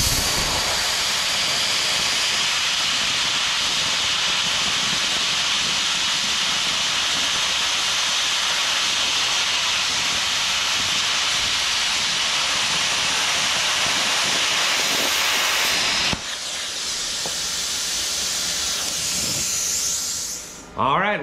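A YesWelder CUT-55DS plasma cutter slices 1/4 inch stainless steel with a loud, steady roaring hiss that runs continuously for about sixteen seconds, then drops to a softer hiss before cutting off.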